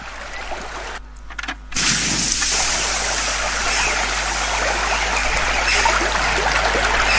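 Steady, broadband rushing of a flowing stream fills a school stage skit, preceded by a brief muffled rustle before the water noise rises and continues evenly.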